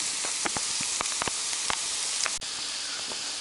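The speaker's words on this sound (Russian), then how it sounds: "Немного обжарив морковь, я добавляю сюда лук." A steady sizzle of onion and carrots frying in olive oil in a pan, with frequent crackles and pops over a constant hiss, briefly dipping near the end.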